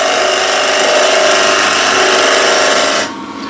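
A wood-turning gouge cuts a bead on a spinning workpiece on the lathe, giving a loud, steady scraping whir that holds evenly and then drops off sharply near the end.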